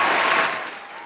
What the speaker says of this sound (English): So let me hit the round of applause button for him.